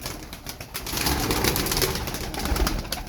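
Pigeons in a coop cooing and rustling close by, a dense, continuous murmur of low coos with some wing flutter and shuffling, with no talking.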